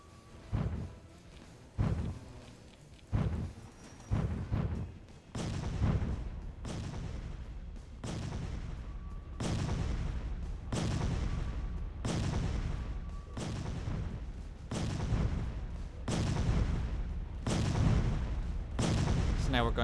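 Artillery guns in the tabletop strategy game Tabletop Defense fire in a steady series of heavy booming shots, about a dozen loud blasts spaced roughly a second or two apart, each with a rumbling tail.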